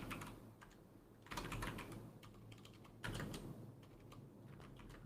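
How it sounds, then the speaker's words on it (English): Quiet clatter of keys on a computer keyboard, bursts of quick taps with short pauses in between, faint and close, no voices. "I think you can hear me typing, right?"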